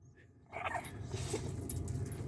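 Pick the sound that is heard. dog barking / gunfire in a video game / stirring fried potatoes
dog barking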